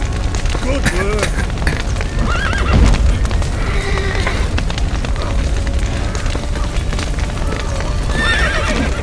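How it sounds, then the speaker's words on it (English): Horses in The Witcher 3 whinnying loudly and repeatedly over rumbling hoofbeats and heavy low booms of combat, close and busy, with brief voices. "The horses!"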